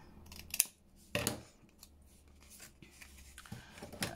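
Scissors snip through paper bookmarks in a quiet room, a few distinct close cuts spaced apart over faint rustling of paper and low background hum.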